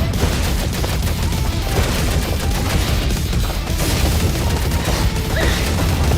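Dense, continuous gunfire from a run-and-gun shooting video game, with rapid overlapping shots, crashes and booms forming a loud, unbroken barrage throughout.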